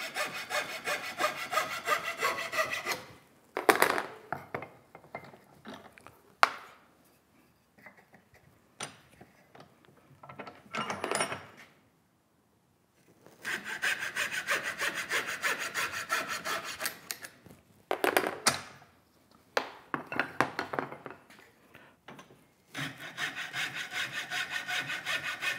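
Hand saw cutting through wood while building a sack-back Windsor chair, close rhythmic rasping strokes in several bursts separated by quiet pauses and small knocks, with no talking.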